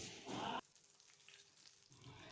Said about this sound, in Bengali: এখন এই তেলের মধ্যে আমি দিয়ে দেব তেজপাতা।